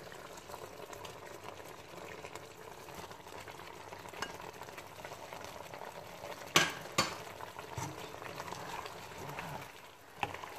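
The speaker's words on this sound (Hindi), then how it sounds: "हम मसाले को भून लेते हैं।" Red chili, ground coriander, salt and garam masala fry in a pan with a soft, steady sizzle. A couple of brief clinks of stirring cut through.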